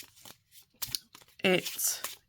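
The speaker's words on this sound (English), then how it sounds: "So it's hand over shuffling." Hand-over-hand shuffling of an oracle card deck, the Rooted In Power deck, gives a few short papery riffles and slides in quick bursts, close and fairly quiet.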